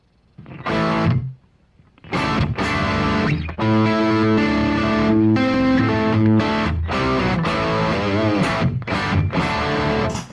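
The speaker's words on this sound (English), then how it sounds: "if I want that classic tone, it's all power amp distortion" Distorted electric guitar through a driven tube amp with power amp distortion via a BOSS Waza Tube Amp Expander, a short chord, a pause, then crunchy sustained chords and riffs, loud and close.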